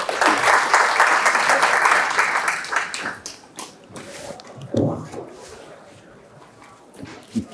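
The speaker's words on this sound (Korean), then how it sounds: "큰 박수로 환영해 주시기 바랍니다" A seminar audience at a pig-farming management talk gives a welcoming round of applause, strong for about three seconds then thinning to scattered claps, with some brief murmuring and knocks as it dies away.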